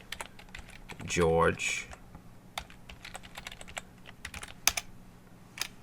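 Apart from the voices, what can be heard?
typing on a computer keyboard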